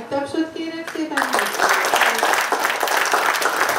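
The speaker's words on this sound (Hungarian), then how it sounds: "akkor Piroskának is egy nagy tapsot kérek szépen" An audience breaks into loud, full applause after a brief stretch of a voice speaking, the clapping dense and sustained to the end.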